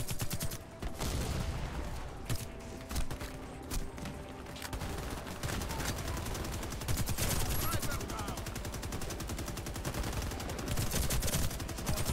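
Rapid gunfire from a shooting video game with sniping, dense bursts of shots running almost continuously, loud and close, with voices mixed in underneath.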